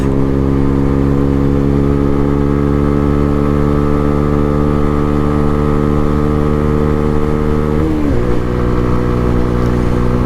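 A Lexmoto Hawk 125 motorcycle engine drones loudly and steadily under acceleration, pitch slowly rising through the gear, then briefly dips and wavers near the end as it continues pulling, with no talking.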